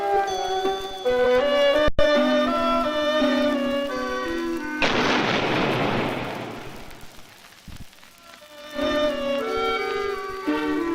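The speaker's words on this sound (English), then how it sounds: "the boom of a 24-pounder on the ramparts still drew very little attention" A deep boom from a 24-pounder cannon fired on fort ramparts bursts out over orchestral music, its rumbling roar lingering for a few seconds before the music returns.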